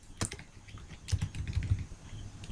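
Keys on a computer keyboard are tapped in a quick, uneven run at close range, a few louder clacks standing out among lighter presses, with no talking over them.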